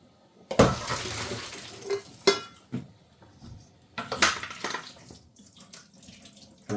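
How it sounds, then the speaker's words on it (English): Cooked rice noodles and water are poured into a kitchen strainer, giving a sudden splashing gush, then dripping, clinks of the pot and a second pour in a quiet kitchen. "pour them into my strainer"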